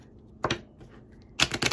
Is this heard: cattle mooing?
no